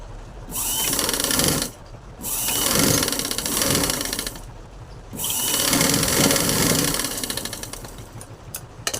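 A sewing machine double-stitches the seams of a one-year-old baby's gown with loud, whirring runs. Three long bursts are separated by short pauses, and the machine is heard up close with no talking.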